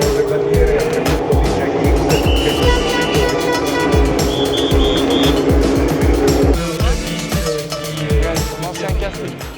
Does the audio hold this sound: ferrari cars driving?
yes